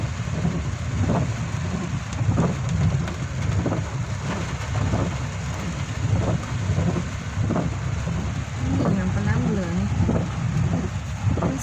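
Heavy rain pours down steadily during a flood in Thailand, a dense, continuous roar with low rumbling gusts, while a person talks over it in the foreground.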